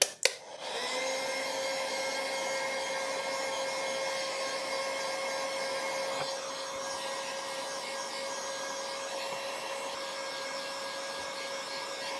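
A hot air blower runs with a steady, loud whooshing hum while heating glass bonded with UV glue, holding an even tone for the whole stretch after a brief start.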